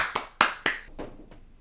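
A single person clapping: three sharp, close hand claps in quick succession, then two fainter ones trailing off, with no talk.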